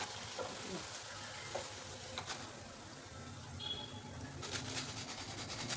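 Snacks deep-frying in oil over a low flame for a quick breakfast, giving a steady soft sizzle and bubble throughout with a few faint clinks, no talk.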